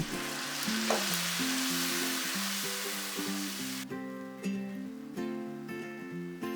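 A spiced braising liquid of water, ginger slices, scallion, five-spice powder and pepper is stirred in a pot, with steady close sizzling and scraping under continuous background music.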